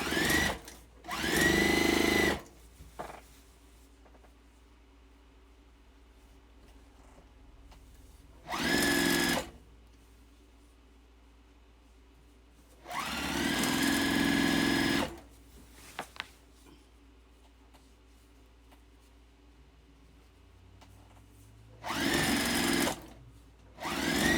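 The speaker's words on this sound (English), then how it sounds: "I just started sewing them." A sewing machine stitches unevenly aligned quilt squares together in four separate runs, each a loud, steady whirring burst of a few seconds, with quiet gaps and faint handling noises between them.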